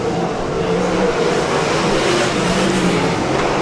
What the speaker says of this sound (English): Brad Furr clicking off laps in the Price Right Restaurant Equipment number 2